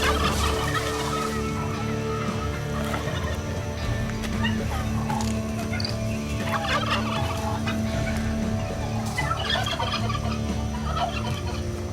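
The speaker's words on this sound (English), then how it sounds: "When it's unclear who's the better mate, the turkeys turn violent." Wild turkeys gobble over and over while fighting for dominance, a dense, continuous racket of overlapping calls close by with scuffling underneath and no talking.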